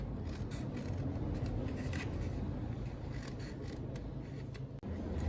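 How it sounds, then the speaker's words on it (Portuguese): Scissors cutting along the side of fabric-covered cardboard, heard as a continuous close rasping, scraping snip with short repeated strokes and a brief pause near the end. "E vamos cortar aqui de lado"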